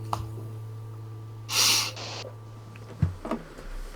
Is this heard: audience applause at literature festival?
no